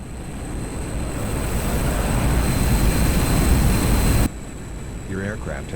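A MiG-21 jet engine roars steadily during a climb in a flight simulator game. The dense, loud rumble cuts abruptly near the end, leaving a quieter hum under a brief voice.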